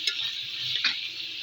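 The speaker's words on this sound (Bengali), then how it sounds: "আদা রসুন বাটাটা আমি ভালো করে তেলের সাথে ভাজা নিব" Ginger-garlic paste fries in hot oil with a steady, moderate sizzle and a brief scrape of stirring partway through.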